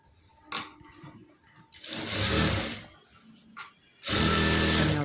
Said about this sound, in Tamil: அப்படியே பார்டர் மாதிரி வச்சு தைச்சிக்கலாம்